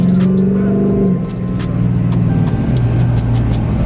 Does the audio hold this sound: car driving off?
yes